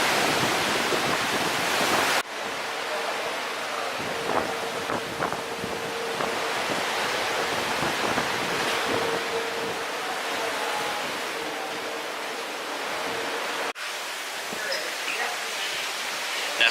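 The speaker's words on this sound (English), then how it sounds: "It's kind of windy out here" Steady wind buffeting the microphone on the deck of the cruise ship Allure of the Seas at sea, over a broad ocean roar, constant and fairly loud, with a few brief cuts in the noise.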